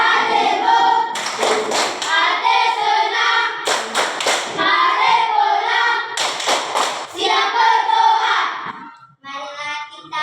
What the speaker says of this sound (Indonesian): Sekarang kita tepuk, materinya sudah habis.